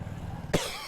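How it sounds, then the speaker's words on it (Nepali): A single sharp, close cough from a man bursts out over a quiet room background. "मलाई फेरि खोकी छ"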